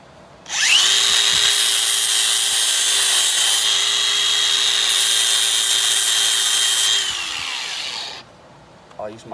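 Angle grinder fitted with a wire brush cleaning old gasket material off a 1994 GMC C3500 throttle body injection engine part, a loud high steady whine spinning up, running about seven seconds, then winding down.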